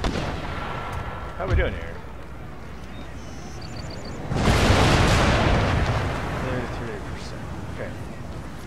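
Cannon fire in the strategy game Empire: Total War, a sharp shot early followed by a long, loud rumbling blast midway that fades out, with someone speaking briefly over the battle.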